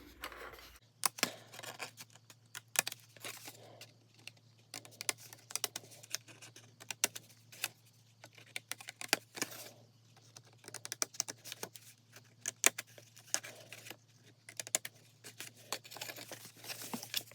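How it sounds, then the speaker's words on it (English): Scissors snip through paper while a DIY gift box is being made, producing a quick, irregular series of close, crisp cuts and rustles with short pauses and no talking. "Then we are going to cut right here."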